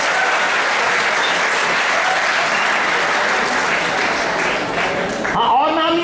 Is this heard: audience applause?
yes